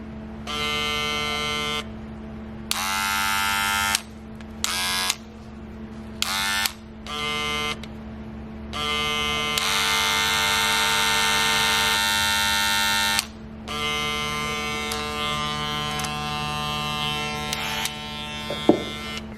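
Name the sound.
Gamma+ Ergo hair clipper and rotary clipper running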